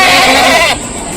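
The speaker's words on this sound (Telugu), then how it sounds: "సూడు మేకలు." Goats bleat loudly and close by at a village livestock market in Rajarampalli, a few overlapping cries that cut off abruptly, leaving a quieter background.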